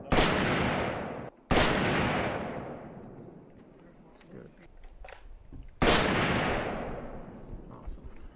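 Three loud .308 rifle shots from a CMMG BR3 on an outdoor range during an accuracy test, each a sharp crack with a long rolling echo, the first two close together and the third after a pause.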